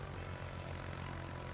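Carrier-launched propeller planes from the Italian Tier VIII carrier Aquila drone steadily in a naval combat video game, a close, continuous engine hum that does not change for the whole moment.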